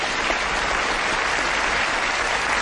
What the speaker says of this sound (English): Give Sarah a round of applause, please.